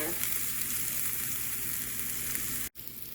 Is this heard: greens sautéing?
yes